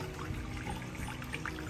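An oriental-style water fountain in an Airbnb backyard trickles and splashes in a steady, soft, continuous pour with no voices.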